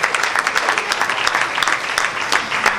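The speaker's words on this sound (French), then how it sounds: "Merci d'applaudir bien fort pour vous-même." Loud, dense applause from a ceremony audience, many people clapping hard and continuously, filling the room without a break.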